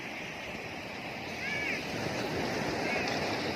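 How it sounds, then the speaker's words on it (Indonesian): Small, gentle ocean waves at Tlangoh beach, a steady soft wash of surf with a slight swell toward the end, moderately distant and continuous. "Ombaknya nggak besar, kecil, aman untuk berenang."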